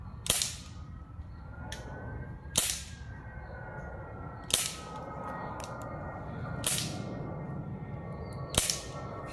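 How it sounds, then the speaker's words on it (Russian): Gunshots fired at a bottle from 10 metres in a forest: six sharp cracks, loud and evenly spaced about two seconds apart, over a steady outdoor hiss, with a faint droning tone in the background. "Он стреляет по первой бутылке."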